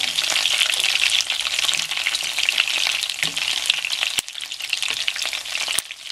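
Chicken wings for teriyaki fry in oil until golden, giving a loud, dense, continuous sizzle heard up close, with a few sharp clicks and knocks of a utensil against the pan.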